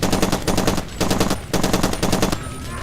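Gunfire from a gun in Far Cry 2, loud sustained automatic bursts in three or four long strings separated by brief pauses, with no talk over it.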